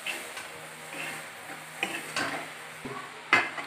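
Rice is stirred into onion pulao in a pan: soft scraping strokes and faint frying crackle, with a few sharp clinks of the spoon against the metal, close and fairly quiet.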